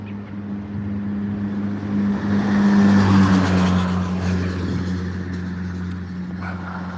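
A police car draws nearer with a steady engine hum that swells to a peak midway and then eases off, moderately loud with a low droning tone and no voices.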